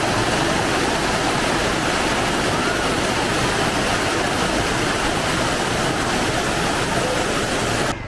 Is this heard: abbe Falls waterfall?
yes